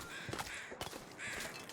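Crows caw in The Long Dark video game, out on frozen ice near a dead animal, with a few faint, short harsh calls spaced apart and no talk.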